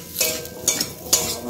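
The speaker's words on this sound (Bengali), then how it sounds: "চলো দেবো হলুদ, দেবো লঙ্কা, এটাকে ভালো করে নেড়ে নেড়ে একটু ভেজে নেব।" Mustard paste with turmeric and chilli is stirred and fried in a pan. Three distinct scraping, clinking strokes of a utensil against metal sound close over a soft sizzle, with no speech.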